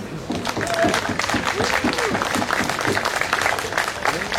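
An audience at a live event in Zarasai, Lithuania, breaks into applause, a dense patter of clapping that carries on steadily for several seconds while voices call out over it.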